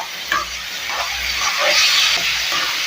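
Onions and tomatoes with salt hiss and sizzle steadily in a pan for a Tamil fish curry, a bright continuous frying noise broken by faint stirring scrapes.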